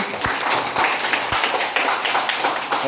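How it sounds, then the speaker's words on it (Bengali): A class of second-grade children claps together, with quick uneven hand claps blending into a lively patter and a few sharper, louder claps standing out near the front. "একটু হাততালি দাও তো সবাই"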